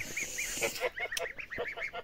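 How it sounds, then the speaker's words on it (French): Young geese on a poultry farm give a quick series of high, thin peeping calls, about a dozen short chirps in steady succession, close and clear with no talking. "Ici, les petites oies, donc pareil."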